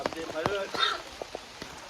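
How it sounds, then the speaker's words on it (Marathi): Light rain falls on a mango and cashew orchard, scattered drops and soft patter under someone talking close by. "पाऊस पण लागता मस्त वातावरण"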